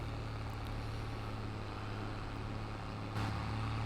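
A tractor engine in the video game Farming Simulator drones steadily at a low pitch, holding a constant moderate level throughout with a slight swell near the end.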